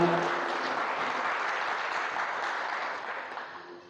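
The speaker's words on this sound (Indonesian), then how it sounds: "Tepuk tangan kembali untuk Eksa dan Kalisari." Seminar audience gives a round of applause, a steady, moderately quiet bed of many hands clapping that fades gradually toward the end.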